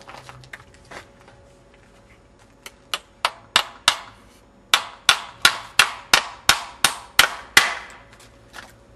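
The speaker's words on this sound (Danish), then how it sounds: "Nu vil jeg så vise, hvordan man sætter 2 brædder sammen ved hjælp af kun 1 søm." A hammer drives a nail to join two wooden boards: a few tentative taps, then a steady run of about a dozen loud, sharp, evenly spaced blows close by, with no talking.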